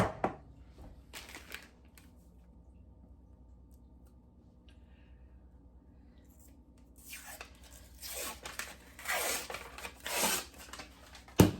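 A package of refrigerated biscuits is torn and opened, with rustling and crinkling that is quiet at first, then a louder burst of tearing and handling near the end.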